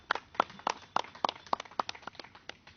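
Scattered audience clapping for Senator Shehu Sani at his State of the Nation Address, a dozen or so separate sharp claps at a fairly steady rhythm, moderately near and thinning out toward the end, with no voices.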